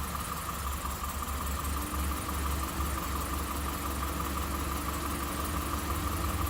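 A rebuilt engine in a 2008 Chevrolet Suburban idles steadily after its first start, a close, continuous low rumble with a faint mechanical hum and no talking.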